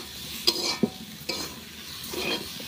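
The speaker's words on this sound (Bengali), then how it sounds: "তো বন্ধুরা দেখো এখানে আমার তরকারিটা পুরো ভাজা হয়ে গেছে।" A spatula stirs a sizzling potato vegetable curry with garam masala in a pan, a few close scraping strokes over a soft continuous fry.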